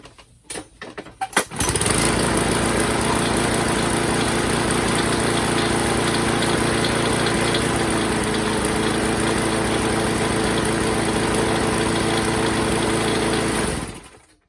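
A renewed Briggs and Stratton 6.5hp engine on a Craftsman lawn mower catches after a few sputtering pulls, then idles loudly and steadily with a buzzing rattle of loose parts, ending abruptly as it cuts off.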